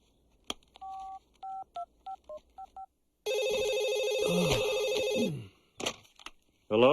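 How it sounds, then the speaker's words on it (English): A cell phone is dialed in a quick run of separate keypad tones, then a loud ringing tone sounds on the line for about two seconds, followed by a few clicks and handling noises. "Nancy, could I borrow your cell phone for a moment"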